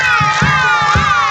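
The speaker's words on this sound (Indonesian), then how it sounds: "Teman-teman bertepuk sambil teriak ya" A group of schoolchildren shouting loudly together, with quick rhythmic claps beating under the sustained chorus of voices in a brief burst.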